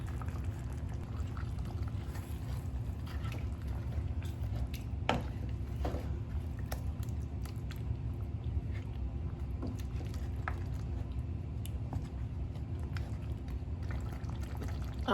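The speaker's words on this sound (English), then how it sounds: "I'm going to add about half a cup of water from the cup of my blender, which had the seasonings" Water mixed with blended seasonings is poured into a pot of Caribbean-style stewed oxtails, giving a soft continuous splash and bubbling sizzle with a few light clicks, steady and fairly quiet.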